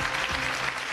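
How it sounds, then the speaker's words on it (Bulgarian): Applause from a studio audience on a television news broadcast, a short, dense burst of clapping heard alone. "Аплодисментите са за нея"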